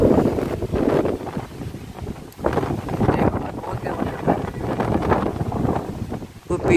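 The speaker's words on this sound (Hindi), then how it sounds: "बहुत तेज हवा चल रहा है, बहुत तेज हवा" Strong wind rushes at night beside a big old tree. Loud, continuous gusts roar and buffet the microphone, swelling and easing without a break.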